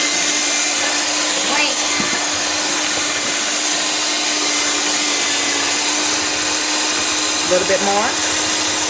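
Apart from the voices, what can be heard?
electric mixer mixing holiday cookie dough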